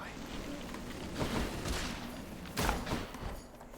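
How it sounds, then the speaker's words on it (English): Two muffled explosions go off a little over a second apart within faint, busy sounds in the game Hades. "Double explosion."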